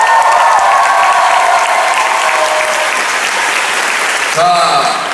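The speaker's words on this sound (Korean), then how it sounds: "큰 박수 한번 부탁드리겠습니다" A large audience applauds at the DIMF awards show ahead of a 42nd Street performance, with loud, sustained clapping through most of the stretch and a voice cutting in near the end.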